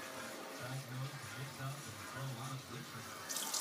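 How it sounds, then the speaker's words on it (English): Water is poured steadily from a tap into a cooking pot during home cooking, a soft continuous splashing trickle at low level, with a short louder burst at the end. "So you're going to add water."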